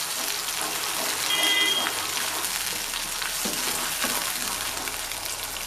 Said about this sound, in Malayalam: അതുവരെ നമുക്ക് നന്നായിട്ടൊന്ന് ഇളക്കി കൊടുക്കാം